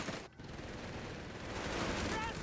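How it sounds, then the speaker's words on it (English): Heavy machine gun fire in the Company of Heroes 3 strategy game during a 1v1 match, heard as a dense, rapid rattle of shots under battlefield noise, with a commentator talking over it. "Another heavy machine gun pinning down this rifleman squad on the bottom side."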